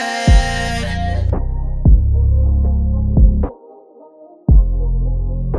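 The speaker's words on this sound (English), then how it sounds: "We're gonna add a beat filter to the end" A song ending is chopped into pulsing bass-heavy beats, with thumping hits, brief gaps and a sudden stop before a final boom.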